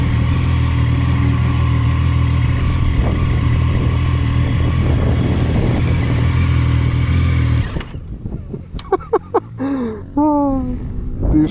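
A Zontes 703F motorcycle rides past with a loud, steady engine drone that cuts off abruptly partway through, leaving quieter background noise and a voice speaking.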